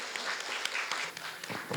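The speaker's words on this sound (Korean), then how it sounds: "여러분 큰 박수 부탁드립니다." Applause at a digital transformation forum for mid-sized companies, welcoming an official to the podium, is a brief, fairly soft, dense crowd clatter that holds steady and begins to fade near the end.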